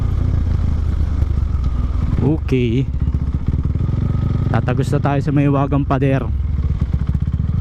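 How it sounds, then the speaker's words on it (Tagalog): A motorcycle engine runs steadily throughout as the rider moves along, with someone talking over it briefly near the start and middle. "alam na nila yung tunog ng motor natin"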